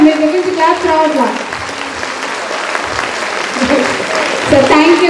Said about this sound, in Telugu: బిగ్ రౌండ్ ఆఫ్ అప్లాడ్స్ అండి, బిగ్ రౌండ్ ఆఫ్ అప్లాడ్స్